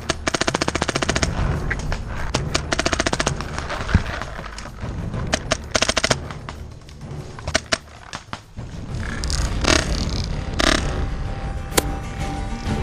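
An X7 Phenom paintball marker fires rapid bursts of sharp shots outdoors during a paintball game, loud and close, with pauses between strings and more shots further off.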